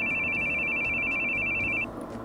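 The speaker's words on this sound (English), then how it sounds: "While I'm running, my phone starts ringing." A mobile phone rings with a steady, high electronic tone that holds for nearly two seconds and then cuts off, sounding close and fairly loud over a faint background murmur.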